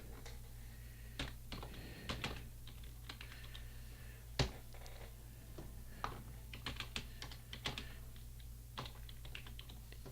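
Typing on a computer keyboard: bursts of crisp, close key clicks, some tapped quickly and some spaced out, with one louder keystroke, over a steady low hum and no speech.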